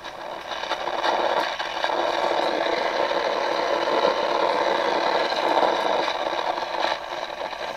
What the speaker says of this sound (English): you hear the stations trying to pick up, but as I said, there's so much interference